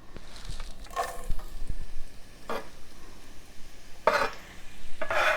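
Half an onion frying in hot oil crackles and sizzles up close, with several louder bursts of spitting and stirring scrapes breaking through a steady background hiss.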